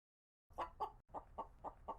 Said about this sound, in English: Let's take a look at this chicken.